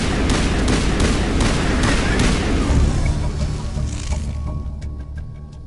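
Heavy gunfire in the video game Mass Effect Legendary Edition, a powerful weapon loosing a dense volley of loud booming shots and blasts that taper into fainter scattered pops toward the end.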